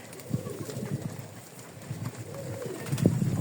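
Pigeons coo softly nearby in low, repeated murmuring calls, with faint scuffling and a few sharper bird sounds over quiet wind.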